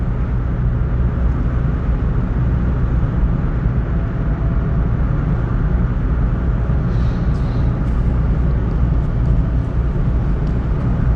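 A car engine working at about 2,500 RPM climbs a hill on the Angeles Forest Highway, a loud, steady drone blended with road and wind noise inside the cabin, with no voices.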